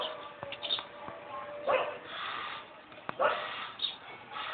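A puppy whimpers and gives short yips in scattered bursts, fairly close, with people speaking around it.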